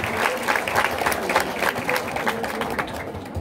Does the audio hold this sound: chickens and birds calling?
no